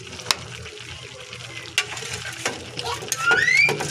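Ginataang taro cooks in a pot while a spoon scrapes and stirs it in short, irregular strokes over a low, faint simmering sizzle.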